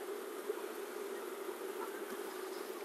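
Honey bees hum at a young hive on a double screen bottom board, a steady close drone that holds unbroken throughout with no talking.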